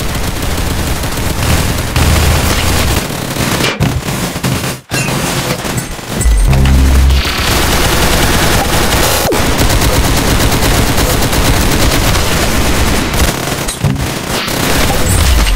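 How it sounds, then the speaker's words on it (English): Rapid gunfire from the Roblox shooter game Arsenal, with dense, continuous bursts of shots and booms filling the whole stretch at loud, close range and a brief dip in the middle. "Good shot! You got his head! Nice headshot!"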